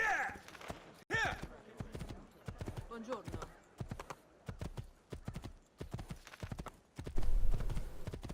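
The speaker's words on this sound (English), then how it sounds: "at least I can get on a proper assassin's horse now" Horse hooves clip-clop in a steady walking rhythm throughout in Assassin's Creed 2, with a person talking over them and a brief whinny early on.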